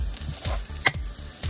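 A spatula stirs chorizo and eggs in a hot frying pan, with steady sizzling and a few scraping strokes. One sharper clink of a utensil against the pan stands out.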